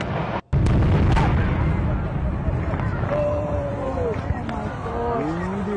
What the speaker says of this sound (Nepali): चीन में एक जैसे बने दो मीनारों को बम से उड़ा दिया गया